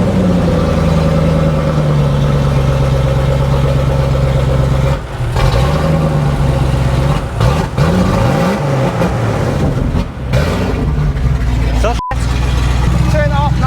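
A Range Rover Classic engine runs steadily at close range, a low continuous drone with a brief rise in revs, while people talk nearby and the window wipers are going.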